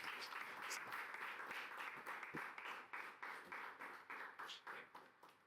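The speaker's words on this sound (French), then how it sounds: "Je vous demande de l'applaudir très fort." An audience at a ceremony honouring a late former president claps steadily, a faint crowd of hands patting in a dense rhythm that thins out toward the end.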